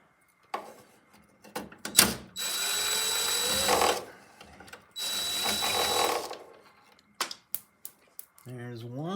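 Phillips screws being backed out around the headlight of a Jeep XJ, with bursts of drill whirring and clicks of metal parts, close and loud, with a voice speaking briefly at the end.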